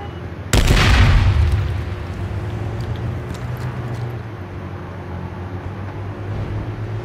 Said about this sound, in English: Let's see how they like a grenade.